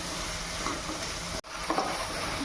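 Ginger, garlic, onion and tomato sautéing in a pan for chicken gravy, a dense steady sizzle with soft stirring, briefly cut by a short dropout midway.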